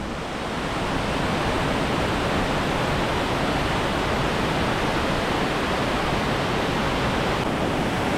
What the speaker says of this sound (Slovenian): Evo, kakšen čudovit slap.